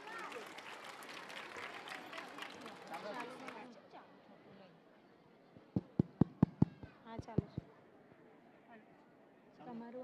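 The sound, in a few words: audience applause at a school annual function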